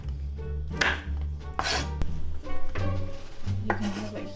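A knife chops onions on a cutting board in a series of close, crisp strikes arriving in uneven bursts over a steady low hum, with no talking.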